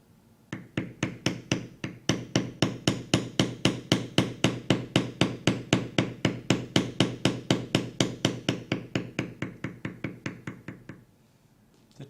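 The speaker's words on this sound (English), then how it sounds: "tool I'm using now is a beveler 701, and I'm going to bevel every cut line that we haven't previously beveled." A 701 beveler tool is struck repeatedly with a mallet while beveling leather, producing about forty sharp, evenly spaced knocks at a fast steady rhythm, close and loud, then stopping.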